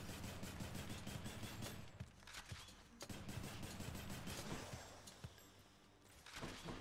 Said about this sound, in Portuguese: Não sabia que era assim que funcionava esse tiro da Afrodite.